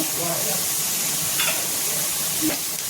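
Salt and turmeric being stirred into food sizzling in a hot pan, a steady frying hiss with a few scraping stirs of the spoon close by, no talking.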